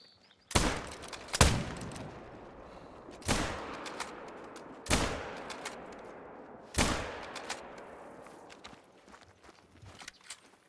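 Rifle shots are fired at an animal in the hunting game theHunter: Call of the Wild, five loud sharp reports spaced a second or two apart, each trailing into a long echoing decay, with no voices.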